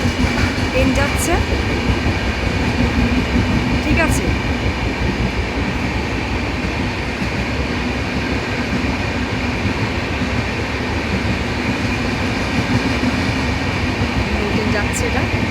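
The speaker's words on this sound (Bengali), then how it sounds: "ওই দেখো, ওই দেখো ট্রেন যাচ্ছে" Mail train passing a station, a loud continuous rumbling roar with clattering wheels that fills the whole stretch, while people talk over it and dogs bark faintly.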